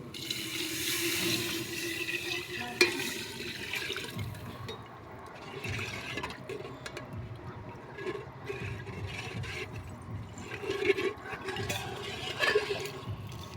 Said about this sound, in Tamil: தேவையான அளவு தண்ணி ஊற்றுறாங்க